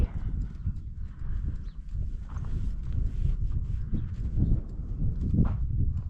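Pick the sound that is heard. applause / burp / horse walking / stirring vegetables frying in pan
horse walking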